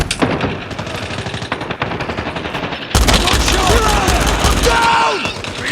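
Rapid automatic gunfire from a video game shooter, dense bursts of loud rattling shots and impacts with a brief shift into heavier, fuller firing partway through, while faint game voices call out in the background.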